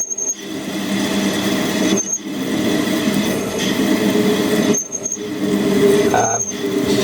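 A lathe parts off a piece of stainless steel under plenty of cutting fluid, with a loud, steady grinding squeal that breaks off briefly a few times during the cut.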